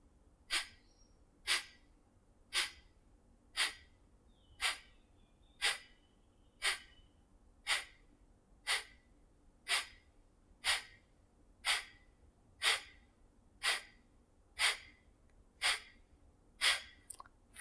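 Kapalbhati skull shining breath, rapid forceful nasal exhales repeating about once per second, roughly eighteen sharp close breath bursts in an even rhythm with quiet gaps between.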